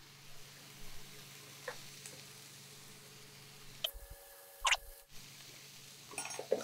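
Ingredients for vegan rice noodles with red peppers are stirred in sesame oil in a pan, giving a faint, steady sizzle with a few soft scraping and clattering touches from the utensil, and no talking.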